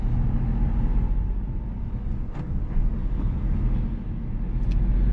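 Cars on a village road, heard as a steady low rumble of engine and road noise from inside a moving vehicle, with no distinct pass-bys standing out.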